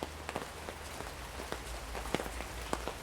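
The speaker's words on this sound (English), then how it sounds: "As the rain continued and the river continued to rise" Rain falls beside a river in the Great Smoky Mountains, a soft steady patter with scattered sharper drops, heard faint and continuous with no talking.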